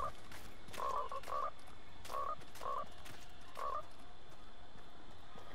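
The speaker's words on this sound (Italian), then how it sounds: "Tanto una rana." Frog croaking inside the Fortnite video game, a handful of short, clear croaks spaced irregularly over a steady low background hum.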